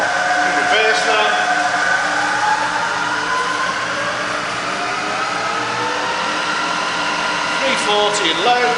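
A Bridgeport milling machine with a 42 inch table runs in reverse in low gear, its motor and gearing humming with shifting tonal whines as the speed changes, while a voice talks over it.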